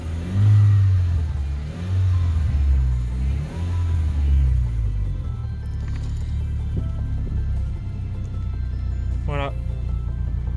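Car engine revving while driving, a loud, close throaty rumble with several rising and falling revs in the first half, settling to a steadier lower drone, with someone speaking in French over it.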